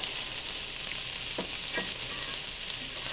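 Vegetables sizzle steadily in a pan before eggs go in, a continuous close hiss with a couple of faint stirring scrapes, no one talking.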